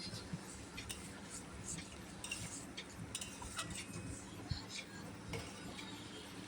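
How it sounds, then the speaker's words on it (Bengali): Spoon stirring mustard paste into a spiced curry of potato, drumstick and tangra fish in a pan, with soft scraping and faint clinks close by, no talk. "সর্ষে বাটা দিয়ে আবারও ভালোভাবে মিশিয়ে নিচ্ছি"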